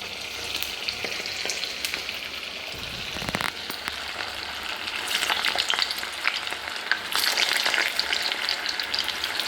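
Rava vada, a semolina fritter, frying in hot oil in a pan, giving a steady close sizzle that swells louder partway through as more pieces go in, with a brief stirring rustle.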